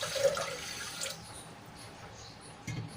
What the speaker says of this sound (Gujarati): અહીંયા મેં ત્રણ કપ પાણી એડ કર્યું છે